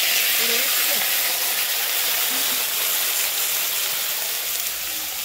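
Water poured into a hot cooking pan, a loud continuous steaming hiss and sizzle that holds steady throughout, close by.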